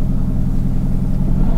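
A 2016 Mercedes-AMG GT S idling with its exhaust pipes opened gives a loud, steady, deep rumble. The low burble is close and continuous and stays level without revving.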